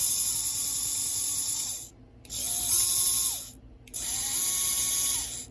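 A small motor-driven HEXBUG crusher mechanism whirs and grinds in three bursts separated by brief pauses, each run a close buzzing, ratcheting drone.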